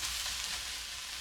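Onions and tomato paste sizzle steadily in a hot pan, a close, continuous crackling fry with no voices over it.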